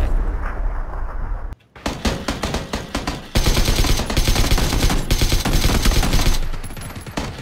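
Dense bursts of automatic gunfire and single shots in the battle royale game PUBG, loud and near, nearly continuous across the clip with a brief drop into quiet early on.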